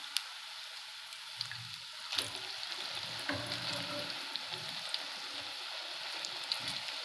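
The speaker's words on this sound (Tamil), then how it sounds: "அதனால் தீயை வந்து ஸ்லோவாக வச்சுட்டு இது மாதிரி பொரிச்சு எடுத்துருங்க" Drumstick leaf (murungai keerai) pakoda fritters frying in oil over a low flame, a steady soft crackling sizzle with occasional light pops and faint utensil clinks.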